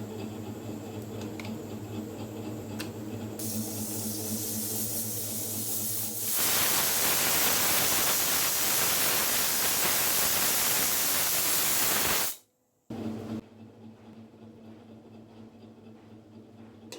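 Pressure cooker cooking beef lets out a loud, steady hissing whistle of steam for about six seconds, then cuts off abruptly, leaving a quieter background hum.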